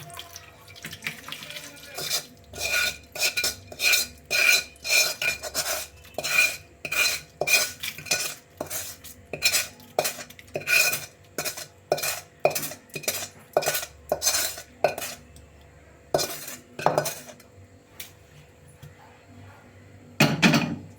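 Tempering being stirred into a broad bean and radish chutney in a pan, a long run of rhythmic metallic scrapes and clanks of a spoon against the vessel, close and loud, pausing near the end.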